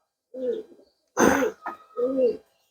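Pigeons coo nearby in three soft, rounded calls with short gaps between them, against an otherwise quiet background.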